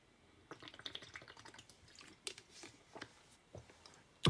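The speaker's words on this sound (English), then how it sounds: "had a mouthful of water" Someone takes a mouthful of water at close range, producing a run of soft wet sips, gulps and small mouth clicks, faint and irregular, ending in a brief louder knock.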